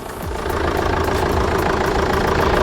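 A 2004 Renault Scenic with a 1.9 dCi diesel engine idles close by in its engine bay, a steady rattling diesel clatter that swells slightly in the first half second and then holds even.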